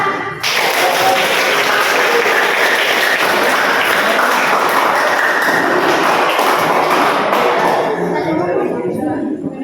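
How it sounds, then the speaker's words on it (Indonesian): A classroom of high school students claps loudly and steadily for a presenting group, a dense close burst of applause that carries for nearly ten seconds before thinning out. "mari kita berikan aplaus untuk kelompok 3 untuk melakukan presentasi pada sub masalah 1"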